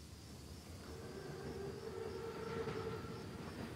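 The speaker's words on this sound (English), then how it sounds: "Train's right on time. Biggest train I've ever seen." Armored train in the Call of Duty WWII video game, a low steady rumble of rolling rail noise with a faint drawn-out tonal whine through the middle, distant and quiet.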